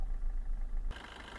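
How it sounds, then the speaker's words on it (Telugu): A low, steady Suzuki Swift car engine hum idles close by, then the tone shifts abruptly to a brighter, broader rumble near the end. "ఇంజన్ బీటింగ్ చూడండి, చాలా సైలెంట్గా ఉంది ఇంజన్ బీటింగ్ అయితే."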